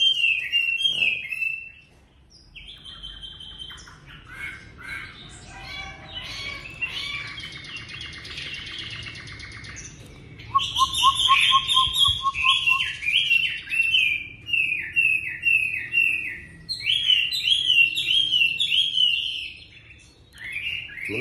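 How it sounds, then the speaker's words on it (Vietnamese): An indoor hwamei songbird, not yet in full plumage, sings in a room, with varied whistled phrases and trills that come in bursts, close and clear, with no talking over them. "chia sẻ cho các bạn là cùng nghe cái tiếng họa mi hót"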